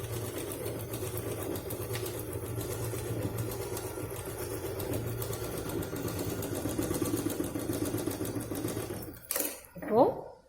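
A sewing machine runs in one continuous whirring stretch while stitching a cloth purse, close and steady for about nine seconds before stopping, followed by a brief rustle.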